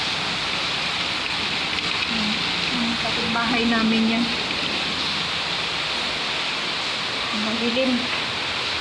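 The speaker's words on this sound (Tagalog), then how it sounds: "Ang lakas ng ulan eh." Heavy rain pours in a steady, dense hiss during a nighttime power outage, while people talk nearby over it.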